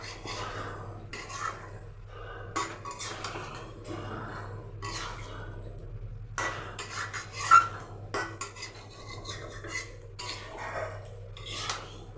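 Chicken with spice masala fried uncovered in a pan for chicken kosha, a metal spoon clinking and scraping in irregular strokes over a faint low sizzle.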